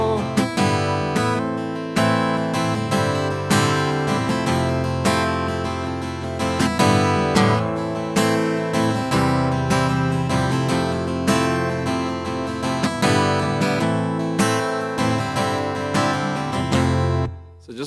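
An acoustic guitar strums the chords of the worship song All the Nations in a steady rhythmic pattern, loud and close, with no talking over it.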